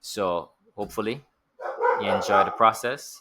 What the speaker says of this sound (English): That's my dog in the background contributing in an amazing way to this video.